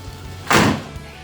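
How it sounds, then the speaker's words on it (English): The door of a second-generation Pontiac Firebird closes once with a solid, close, heavy thunk in the middle of an otherwise quiet moment. "So the door does close good."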